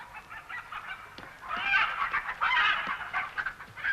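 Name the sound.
chicken clucking in a film excerpt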